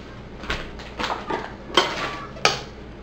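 Spoon scraping and knocking against a pot while stirring tuna casserole with cheese, five distinct clinks and scrapes spaced about half a second apart, close and clear over a quiet room.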